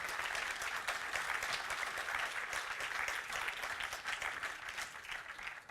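A conference audience applauds the speakers of a leadership panel, a dense, even wash of many hands clapping that holds steady from start to finish at moderate, distant-sounding volume.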